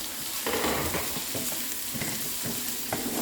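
Carrots sauté in a hot pan with a constant loud sizzle, broken by scraping stirs of a utensil across the pan, close by and with no talk.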